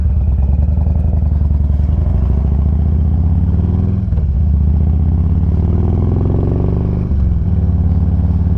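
A Harley-Davidson Road King with an old 88-inch five-speed engine idles at a stop, its deep, loping, uneven thump steady and close throughout, with two brief dips in the rumble.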